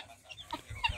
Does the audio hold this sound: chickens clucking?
yes